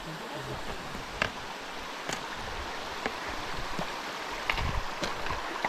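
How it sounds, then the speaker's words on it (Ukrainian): A small waterfall in the Carpathian mountains splashes and gurgles steadily nearby, a soft continuous rush of water with occasional brief clicks and splashes. "Так, ну що, перший водоспад."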